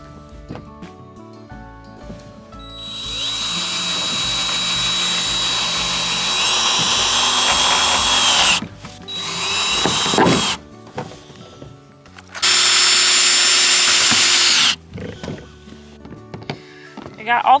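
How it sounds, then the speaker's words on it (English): A power drill drives self-tapping screws through a trailer roof during a solar panel install, whining in long sustained bursts with pauses between them, close and loud, with some handling clatter in the gaps. "And so I'm just gonna drill them through the roof."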